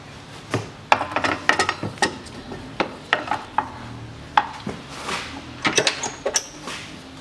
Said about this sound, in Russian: И поддеваю привод монтажкой.